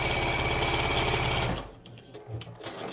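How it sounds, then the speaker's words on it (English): A sewing machine runs straight-line quilting stitches across a Christmas stocking, a close, rapid mechanical whir for about a second and a half before it stops, leaving faint handling clicks. "I'm basically just going to do some straight line stitching across."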